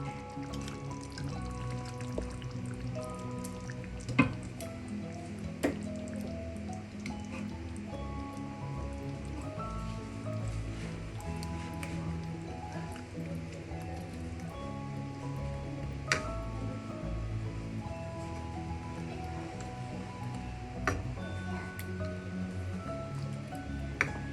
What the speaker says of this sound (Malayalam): കറിയെല്ലാം തിളയ്ക്കാൻ തുടങ്ങിയിട്ടുണ്ട്. ഈ സമയം നമുക്കൊന്ന് ഇളക്കി കൊടുത്ത ശേഷം മീൻ കഷ്ണം ഓരോന്ന് പുറത്തിടാം.